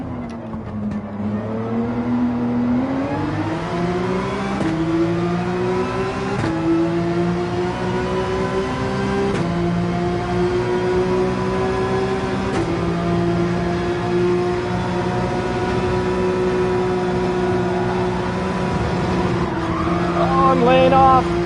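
GT3 race car engines roar in Gran Turismo 7 as a lap at Spa runs on, sustained and loud, with revs climbing and falling through gear changes and a brief tire squeal near the end.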